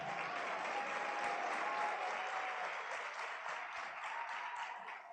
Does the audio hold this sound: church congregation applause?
yes